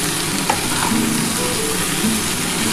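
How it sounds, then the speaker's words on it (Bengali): Cauliflower and potato curry frying in a pan, a loud, close, continuous sizzle with stirring scrapes, no voices. "এবার এটা খুব ভালো করে ভেজে নিই।"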